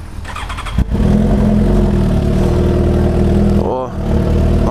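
Motorcycles, a Honda and a BMW, pass near a roadside stop on a mountain road, their engines droning loudly with a rising and falling pitch, and a voice speaks over them.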